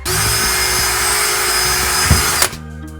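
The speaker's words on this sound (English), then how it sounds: "That's what they recommend to drill this hole for the drain." A power drill with a 1/4 inch bit bores a drain hole during a water filter install, its motor whining steadily and loud up close before it stops abruptly near the end.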